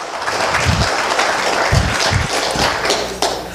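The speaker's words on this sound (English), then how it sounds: "Give Brother Lester a big round of applause, fam." Audience at a gathering applauding, a dense wash of clapping with scattered louder thumps, steady and fairly close for the whole stretch with no talk over it.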